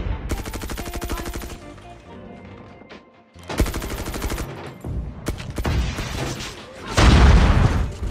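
Groza rifle fire in a first-person shooter game, rapid automatic bursts rattling loudly and close, separated by short pauses, with impacts and crashes mixed in and a brief voice under the action.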